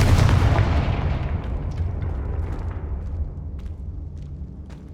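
Confringo spell explosion in the Hogwarts Legacy video game: a loud, broad blast at the start that decays into a rumbling tail, with a few faint crackling pops over the following seconds, no talk.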